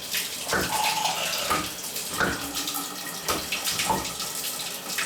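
Water running from a bathtub spout in a mobile home bathroom, a steady rushing splash with occasional louder gushes and knocks, close and clear with no talk.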